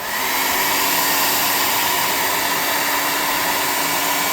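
A hair dryer blows loud and steady, drying matte clear coat on painted tabletop miniatures, a continuous close roar with no pauses and no talk.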